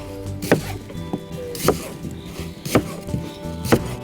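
Four sharp knife chops through onion on a wooden board at an unhurried, even pace, each a crisp thud against quiet kitchen background.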